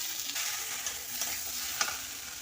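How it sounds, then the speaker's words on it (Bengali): Fried soybean chunks get stirred into a ground paste of cumin, coriander, poppy seed and mustard, giving a soft, even sizzle with occasional faint spoon scrapes and one sharper tap, quiet and without speech. "বেটে রাখা জিরা ধনা আর পোস্ত আর সর্ষে একসঙ্গে পাঁচ মিশালি মশলা আমি ওর সঙ্গে দিয়ে দিলাম আমার ভেজে রাখা সয়াবিনগুলোও দিয়ে দিলাম"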